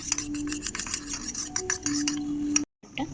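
A spoon stirs about a spoonful of cornflour into water in a bowl, clinking steadily against the sides in quick repeated strokes, close and clear, then a brief silence before a few more clinks.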